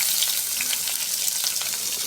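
Chopped onion and whole garam masala fry in hot oil in a pan for an egg poach curry, giving a loud, steady, dense crackling sizzle, close up with no voices.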